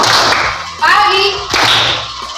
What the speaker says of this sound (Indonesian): jika ibu bilang pagi, berarti tepuk tangan